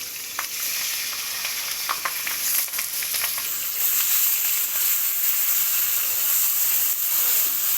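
A vegetable frying in a pan with salt and turmeric for a spicy fritter dish gives a steady close sizzle, with a few faint scrapes early on and no talk.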